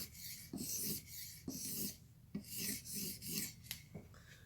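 A knife is stroked across a sharpening stone to shear off the burr, giving a series of about eight rhythmic gritty rasps with brief pauses between strokes, close and quiet.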